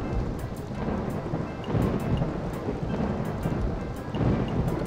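Rain pours steadily with rolling thunder and intermittent crackling strikes in a RollerCoaster Tycoon 3 game scene, a continuous moderate storm with no voices.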